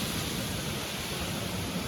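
Waterfall beside a mountain road on the pilgrimage route from Gangotri to Kedarnath, a steady broadband rush of falling water, moderately faint and unbroken, with no voices.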